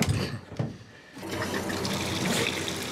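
Water runs into a bathtub, a steady close gushing rush that swells and continues without pause after a brief dip.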